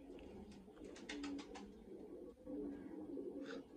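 A female Kamagar pigeon coos softly in a short series of low rolling calls, faint and close, with light background noise and no talk.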